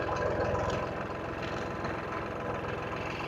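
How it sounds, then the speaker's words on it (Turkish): A tractor engine runs with a steady, throbbing low rumble while pulling a drum irrigation machine slowly, close and continuous with even pulsing throughout. "Biraz da gaz verelim traktörümüze."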